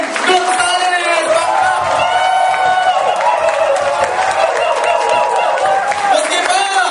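A crowd at an AIM Global training event cheers, whoops and claps for a speaker being introduced, in a loud, dense roar of voices over steady clapping that holds for the whole stretch.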